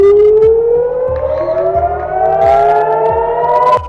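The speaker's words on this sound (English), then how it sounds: "Sirens blared in Jerusalem and other cities" Air raid sirens blare across Israeli cities such as Jerusalem, a loud sustained wail rising steadily in pitch without a break, heard alone with no voices.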